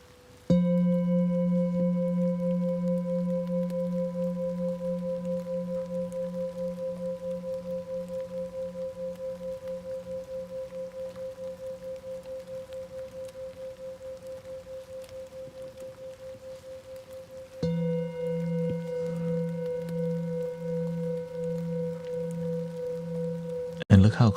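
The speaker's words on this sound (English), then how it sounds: "look how close the microphone is to the bowls, which allows you to hear the detail of the sound better" Close-miked singing bowls tuned to 432 Hz ring in long sustained tones with a slow, pulsing wobble; the first hum fades gradually before a second strike restarts a bright, steady drone, with a sharp knock at the very end.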